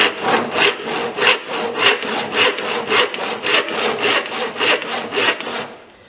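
A fine-toothed hand saw cuts through wood in steady full-length strokes, about seventeen even rasping pulls and pushes in a regular rhythm, close and clear, ending abruptly.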